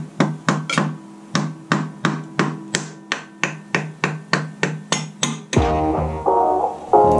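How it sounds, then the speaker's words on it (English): Sharp metallic hammer blows drive a big screwdriver into a stuck oil filter on a Honda VFR1200F motorcycle in a steady rhythm, about fifteen hits, followed by a few heavier scraping knocks near the end. "Take a big screwdriver and hammer it into the filter."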